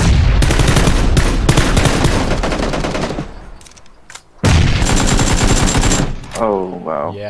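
Loud, close bursts of automatic gunfire in the video game PUBG, rapid rattling volleys with a brief lull before another long burst, and a voice briefly heard at the end.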